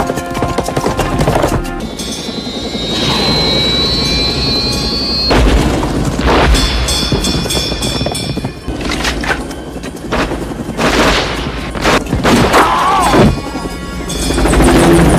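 Helicopter chase in an action film, with a dense roar of rotor and engine noise, bursts of gunfire and booming impacts, loud and continuous with a layered soundtrack.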